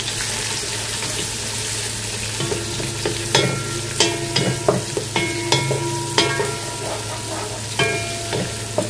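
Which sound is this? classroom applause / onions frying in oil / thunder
onions frying in oil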